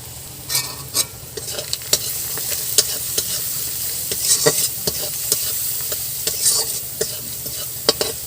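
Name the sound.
onions frying and being stirred with salt and turmeric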